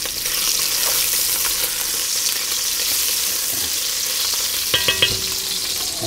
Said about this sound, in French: laisse les lardons dorer bien comme il faut